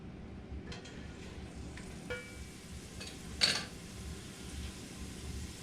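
Sausage and shrimp sauté in a gumbo pot with a soft, steady sizzle and occasional faint scrapes and a brief clatter of stirring, quiet and without speech.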